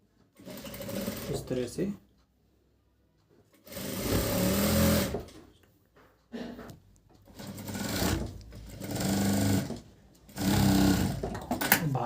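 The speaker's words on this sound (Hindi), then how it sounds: "पहले हम साइड की सिलाई मारेंगे" Sewing machine stitching the side seam of narrow pants, running in several loud bursts of a few seconds each separated by pauses, with a person talking briefly between runs.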